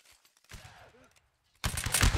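Musket volley fire in the Napoleonic Wars video game: a scattered crackle of shots, then after a pause a loud, dense volley erupts at the end, with brief voices underneath.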